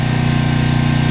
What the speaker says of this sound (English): You have to excuse the noise, because they have not one but two generators going.